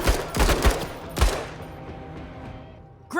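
A few heavy shots crack in MENACE, a mechanized warfare game, in a quick cluster at the start, then one more loud blast, followed by a long fading rumble.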